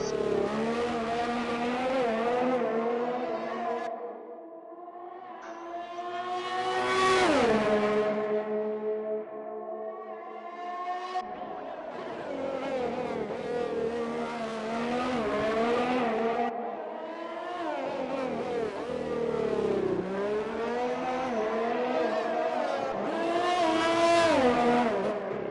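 F1 race car engine in a video game at Baku, revving and shifting through gears on a lap with rising and falling pitch sweeps, loud and continuous, briefly easing off before accelerating again.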